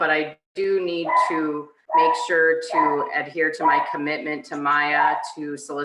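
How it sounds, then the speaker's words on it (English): Dogs bark and whimper in a home during an online board meeting, the yips mixed in under steady continuous talk from a nearby speaker. "Apologize for my dogs freaking out right now."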